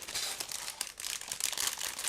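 A plastic bag holding the largest sprues of a Zvezda 1/35 Elefant model kit is cut open and handled, giving a steady close crinkling and rustling with a few sharper crackles throughout.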